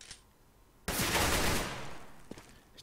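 Rapid gunfire bursts from the Overwatch video game, a dense loud volley that starts abruptly and fades into a softer tail with a couple of faint later shots.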